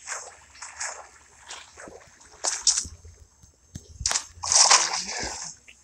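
Water splashing in the video game Minecraft, heard as several short bursts of splash and slosh noise, some louder and sharper than others, spaced irregularly across a quiet background.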